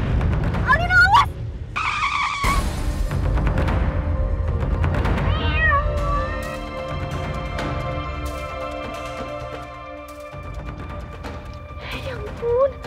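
A car brakes hard with a screeching skid, then a cat meows repeatedly nearby in rising, wavering cries while people speak underneath.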